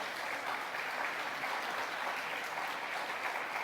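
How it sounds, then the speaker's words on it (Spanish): A church congregation at a 108-year-old evangelical church in Aguada applauds in a dense, even wash of many hands clapping, steady throughout, with no talk. "Que para la gloria de Dios sea ese aplauso"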